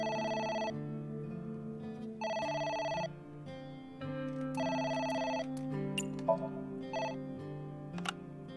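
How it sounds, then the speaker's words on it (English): Telephone ringing in the video game AI: The Somnium Files: repeated electronic ring bursts in a regular on-off pattern over soft background music, quiet and clear with no talk. "It's the phone. Maybe try picking it up?"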